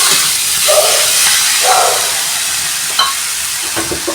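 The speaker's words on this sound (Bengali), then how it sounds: "এখন এই মাংসটা আমি ভালো মতো করে এই মশলার সঙ্গে নেড়ে নেবো।" Mutton being stirred with spices in a pan over a village-style home fire, a loud close sizzle with scraping spoon strokes and a few clinks.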